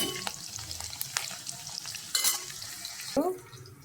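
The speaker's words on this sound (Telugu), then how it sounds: "ఇలాచి, లవంగం వేసుకున్నానండి. వేసుకొని కలుపుకోవాలండి. గోల్డ్ కలర్ వచ్చేదాకా వేపుకోవాలండి." Cardamom pods, cloves and cinnamon frying in hot oil for a mutton curry, a brief close sizzle with a few stirring scrapes and clinks, plus a short splash near the end.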